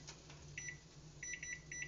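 A kitchen timer set for a pot of noodles on the stove beeps in short, bright electronic bursts: a pair, a pause, then a quicker run of repeated beeps, fairly faint over a low steady kitchen hum.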